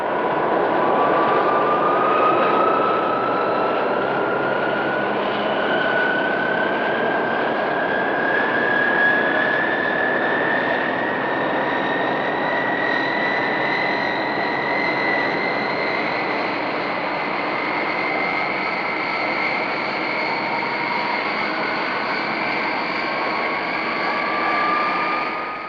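A passenger airliner takes off: a loud, continuous jet roar fills the whole stretch, with a whine that slowly climbs in pitch as the engines power up. No one talks.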